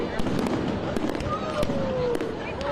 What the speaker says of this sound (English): It's the Macys 4th of July fireworks,